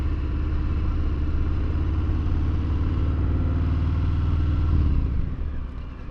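A Harley-Davidson Fat Bob cruiser motorcycle engine rumbles loudly and steadily at close range, then eases off toward the end.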